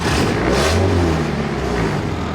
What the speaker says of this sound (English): I'm gonna just drive it around for a bit, just get the motor running